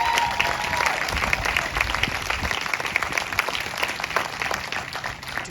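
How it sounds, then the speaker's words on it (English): A school ceremony audience gives the students a continuous, lively round of applause that stays even in loudness throughout, with a faint tone audible at the very start. "How about another round of applause for our students?"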